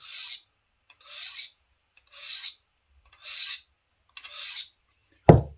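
Five evenly spaced rasping strokes of a file scrape across the metal of an Old Timer 96OT Bearhead Trapper knife, each a short hissing sweep, ending with a sharp knock.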